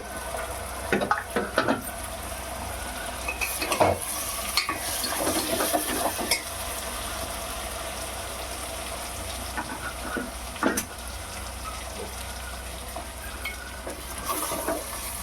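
Prawns and green peas fry in a Rayalaseema-style curry pan: a steady soft sizzle with repeated scraping stirs and occasional clinks of a spoon against the pan.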